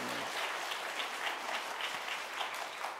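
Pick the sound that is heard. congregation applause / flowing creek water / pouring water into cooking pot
congregation applause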